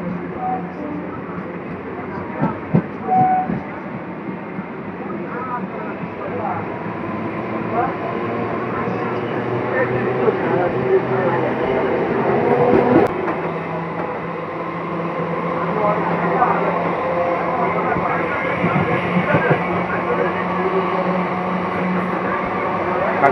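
A Krishnanagar local train runs on the line near Kanchrapara station, heard from inside as a steady rumbling roar with rattles and clunks that builds over time, while a voice talks over it.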